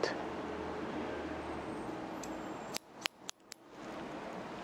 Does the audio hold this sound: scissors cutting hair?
yes